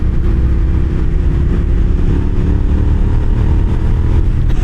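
A 2006 Suzuki SV650S motorcycle engine revving during a ride, a loud continuous close-up roar with slight rises in pitch and wind rush, no talk.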